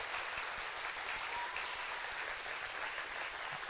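Audience applause in a concert venue during a steel band spring concert: a steady, even wash of many hands clapping throughout, moderately distant, with no voices over it.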